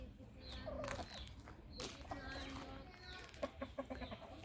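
Chickens cluck and squawk nearby as they rush out of an opened coop, several birds calling in short overlapping bursts with a faint gobbling note among them.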